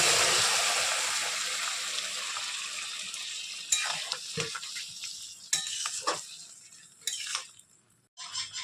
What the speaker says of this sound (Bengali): এদিকে জল ফুটতে আছে, জলটা এখন দিয়ে দেব